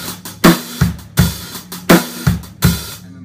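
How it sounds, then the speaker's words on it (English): Close, loud drum kit groove: a fatback hi-hat pattern with the bass drum shifted to the ands, repeating in a steady loop with no voices. "And then you can move them over to the ands."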